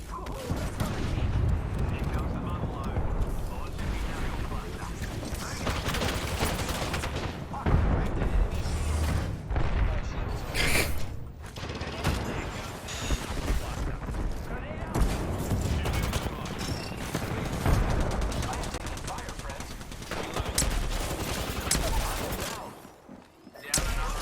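Gunfire in the Apex Legends video game rattles in dense bursts with booming impacts and mechanical clatter through most of the stretch, with a player's voice talking over it.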